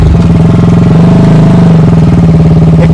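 Motorcycle engine running steadily in fourth gear on a wet, rainy road, a loud, close, continuous drone with a rhythmic pulsing throb and no talk.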